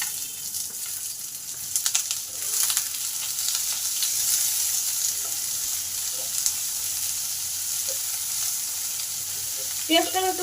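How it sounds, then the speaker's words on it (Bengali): Chopped onion sizzles steadily as it fries in a pan, a continuous hissing crackle with occasional stirring scrapes and a brief clatter near the end. "পেঁয়াজটাকে একটু ভালো করে ভেজে নেব।"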